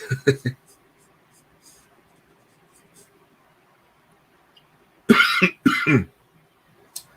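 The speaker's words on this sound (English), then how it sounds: "I did not mean to cough there in the microphone" A short burst of coughs at the start, then near silence, followed by a louder double cough close to the microphone and a faint click at the end.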